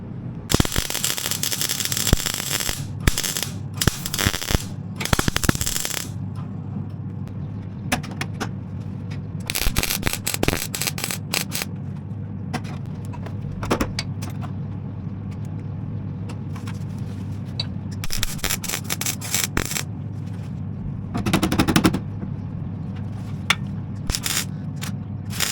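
Plug welding a steel sill on a VW Scirocco during rust repair: repeated bursts of harsh crackling arc welding, each lasting a second or two, separated by pauses with a low steady hum underneath, close and loud.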